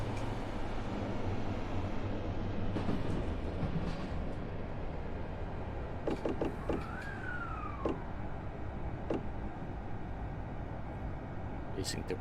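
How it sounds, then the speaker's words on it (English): A passing train in the JR East Train Simulator on the Chuo Line Rapid Service rumbles steadily throughout, a loud, continuous low roar with a brief horn-like tone midway. "The sounds that they have added for the passing trains is really nice."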